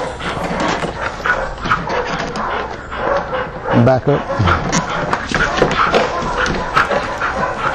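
A dog whimpering on a leash during an obedience training lesson, with thin high whines scattered under steady, close instructional talk from a trainer.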